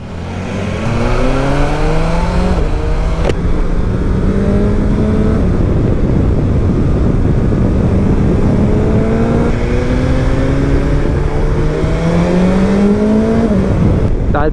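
Motorcycle engine revving through repeated rising pitch sweeps as it accelerates and shifts, loud and close, with a sharp drop near the middle and another climb toward the end.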